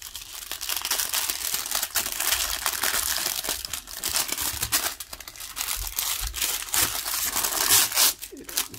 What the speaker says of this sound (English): I'm curious about what's in all these little wax baggies.